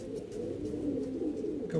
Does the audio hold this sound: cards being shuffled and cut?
no